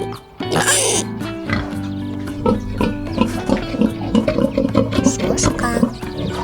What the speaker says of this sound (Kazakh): Шошка.